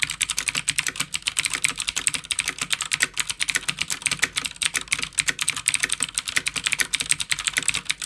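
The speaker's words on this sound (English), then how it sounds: "Here's the WASD V2." Continuous fast typing on a WASD V2 mechanical keyboard, crisp clicky keystrokes heard up close, dense and even throughout.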